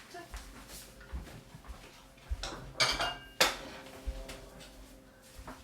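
Condensed milk goes into a bowl with close clinks and scrapes of a utensil against dishware, quiet at first and building to brighter clattering in the middle.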